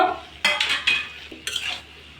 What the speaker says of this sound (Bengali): সুন্দরভাবে মিশিয়ে দিয়ে একটু নাড়ব